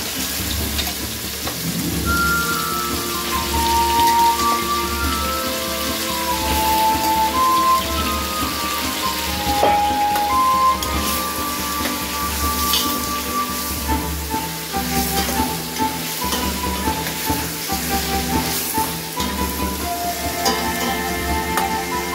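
Chicken pieces sizzle and crackle steadily in a hot pan with lemongrass, a dense, continuous frying hiss that swells and settles, heard close without talk over it.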